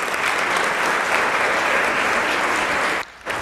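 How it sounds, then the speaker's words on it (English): An audience at a women's business convention claps loudly and steadily in a dense, even wash of applause that cuts off abruptly near the end. "Give her a round of applause again, please."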